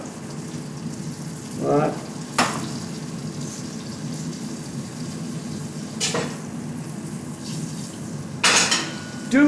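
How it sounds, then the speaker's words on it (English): Vegetables sweat in butter in a pan on the stove for a puree soup, a steady soft sizzle broken by sharp clanks of pans and utensils. One brief spoken word breaks in. "I'm going to sweat the vegetables, cook it with that colour"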